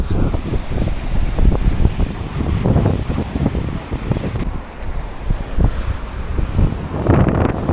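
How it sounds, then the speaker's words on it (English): Strong wind on the Tenerife coast buffets the microphone in heavy, irregular gusts, loud and close, with a roar of surf underneath and no talk. "It's like a wind tunnel in here."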